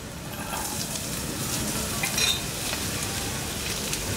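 Chopped onion and thinly sliced bell pepper fry in a hot pan, giving a steady, close sizzle with occasional stirring scrapes.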